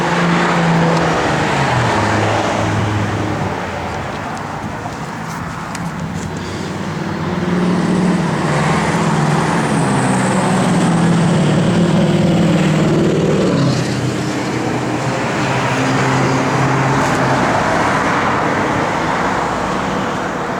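A 1965 Ford Mustang convertible engine with dual exhaust rumbles loudly and continuously, its deep exhaust note rising and settling as it idles and revs close by.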